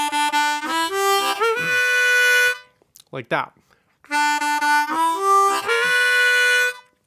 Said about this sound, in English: we play a double stop or a two-note chord